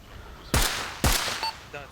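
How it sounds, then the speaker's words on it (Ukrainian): Two sharp gunshot bursts crack from a pickup truck in the military video game Arma Reforger, evenly spaced about half a second apart, followed by a fainter clank and trailing tones. "бачу, як під'їхав. Цей пікап та розстрілює двох людей."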